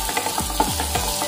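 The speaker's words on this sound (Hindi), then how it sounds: "3 मीडियम साइज के कटे हुए प्याज ऐड कर देंगे।" Chopped onions hitting hot oil with cumin seeds and garlic cloves in a home kitchen pan, a steady loud sizzle with crackling pops and a few scraping stirs throughout.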